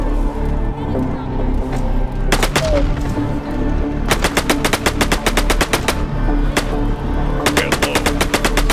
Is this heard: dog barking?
no